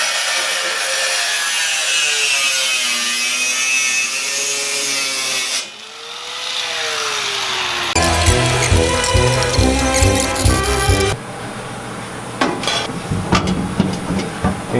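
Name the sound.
trimming VW Bug floor pan with a saw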